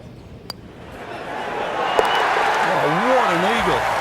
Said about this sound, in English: Crowd's going wild out there.